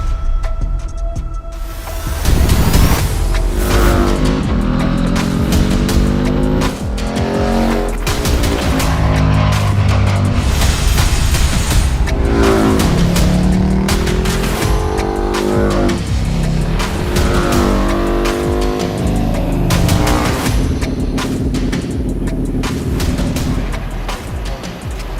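A 2025 Harley-Davidson CVO Road Glide RR motorcycle is ridden hard on a racetrack, its loud engine revving up and dropping through gear changes in repeated rising sweeps, close and continuous.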